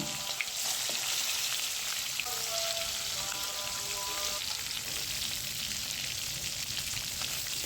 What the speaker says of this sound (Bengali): তেল দিব গোস্ত ফ্রাই করে নিব